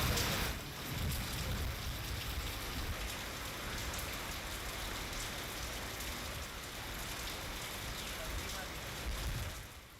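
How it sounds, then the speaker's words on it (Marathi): Heavy unseasonal rain with hail pounding down across farmland in Thanepada and Gangapur, Nandurbar district, Maharashtra; a dense, steady roar of rain on surfaces with strong wind, loud and continuous for the whole stretch, no voices. "नंदुरबार जिल्ह्याच्या ठाणेपाडा आणि गंगापूर परिसरामध्ये गारपिटीसह जोरदार पावसाने हजेरी लावली"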